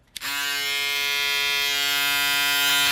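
Gamma Prodigy electric shaver switched on with a click, then a steady loud close-up buzzing hum of the cutting blades running continuously, with no talking.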